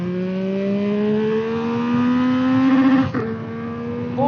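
A 2025 Yamaha MT-09 SP motorcycle runs at full throttle, its engine note climbing steadily, a brief dip as it shifts gear near the end, then pulling on again, close and loud.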